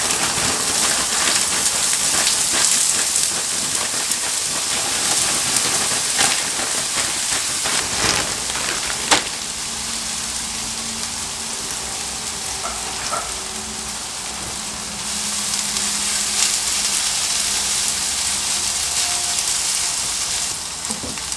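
Hash browns sizzle in hot oil in a pan on a stovetop burner turned down to medium, a steady dense crackling hiss like rain that runs unbroken throughout, with a few small clanks and no talking.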